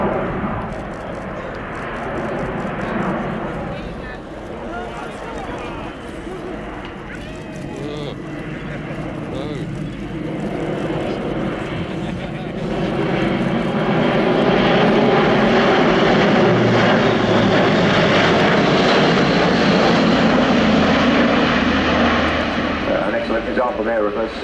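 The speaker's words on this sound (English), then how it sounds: "Example there of a 60 degrees nose down steep approach with propellers in fully fine, which kind of work as an air brake" An Airbus A400M Atlas turboprop roars through a steep 60-degree nose-down display approach at RIAT 2018, its propellers in fully fine pitch acting as an air brake. The loud engine drone builds and sustains throughout, with a commentator talking over it.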